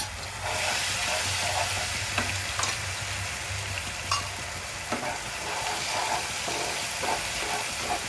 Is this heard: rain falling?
no